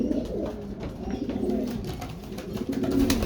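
Young pigeons cooing in a loft, soft low throaty coos repeating in overlapping phrases, close and fairly quiet, with faint rustling and no talk.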